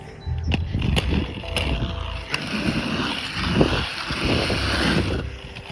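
Roller skates roll over a pump track with a loose rumbling glide. Wheel noise swells and fades as the skater pumps through the bumps, and wind buffets the microphone.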